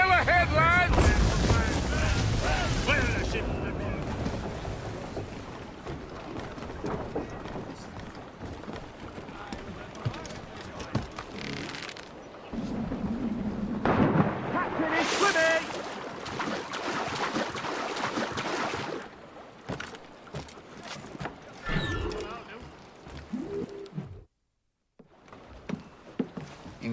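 A sailing ship at sea in the Assassin's Creed Rogue video game, wind rushing and waves washing against the hull in a loud, continuous ocean bed, with shifting gusts and bursts of game sound effects.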